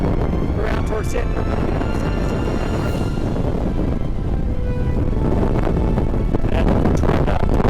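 Strong wind on a mountaintop buffets the microphone in a constant roaring rush with gusty surges, someone speaking faintly underneath.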